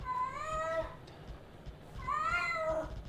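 An agitated indoor house cat gives two long, drawn-out angry meows, loud and close, with a pause of low room noise between them.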